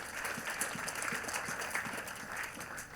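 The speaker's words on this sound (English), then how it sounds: "Clap for Jesus Christ once again." Faint congregational clapping rises during a church testimony service, a soft, continuous patter of many hands at a distance, with some rhythmic beats showing through and no clear voices over it.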